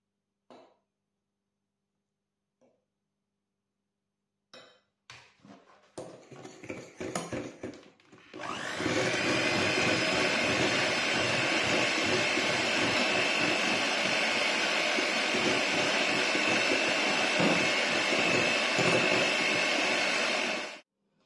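An electric mixer whisks gluten-free chestnut plumcake batter of eggs and flour. A few light clinks and rattles against the bowl come first, then the motor starts up and holds a loud, steady whir for about twelve seconds before cutting off.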